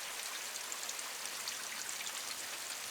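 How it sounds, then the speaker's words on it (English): Steady rain falling in the Myst V: End of Ages game world, a dense, even hiss of drops with faint splashing texture, constant and moderately quiet with no voices. "we're just going to enjoy the rain cooling things down"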